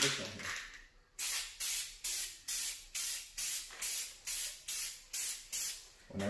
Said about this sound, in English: spray some nice streaks on it